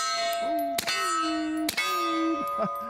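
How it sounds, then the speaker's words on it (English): Shots striking a steel gong target ring out in three sharp metallic clangs, each followed by a sustained ringing tone, loud and close with no talk. "Let's go ahead and hit the gong if we can while we're doing this."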